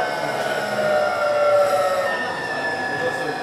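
Electric train traction motor on a UK train between Cambridge and London whining with steady tonal hums that slowly rise in pitch, loud and close, continuous throughout with rumbling carriage noise beneath.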